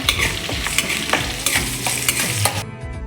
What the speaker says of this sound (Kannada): ಒಂದು ಈರುಳ್ಳಿ ಫ್ರೈ ಮಾಡಬೇಕು ಚೆನ್ನಾಗಿ